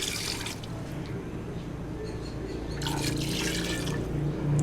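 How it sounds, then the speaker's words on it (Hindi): Water splashes and gurgles as two glasses are poured into a metal pressure cooker for mutton pulao, swelling louder toward the end. "2 गिलास इसमें पानी डाल देते हैं"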